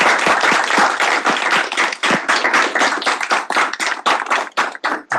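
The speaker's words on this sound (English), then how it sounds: "Please give him a big round of applause." An audience at a Senate meeting gives a speaker a dense round of clapping, many hands close and loud at first, then thinning into scattered separate claps before fading out.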